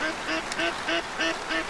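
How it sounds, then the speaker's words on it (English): Ducks quacking in the hunting video game Way of the Hunter: about six evenly spaced, nasal quacks in a steady rhythm, clear and fairly close, with no talking over them. "The ducks are laughing at me."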